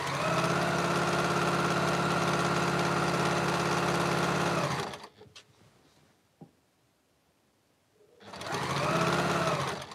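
Sewing machine backstitching a quilt seam, a loud, steady close motor hum and needle drone that stops midway, leaves a quiet gap with a small click, then starts again.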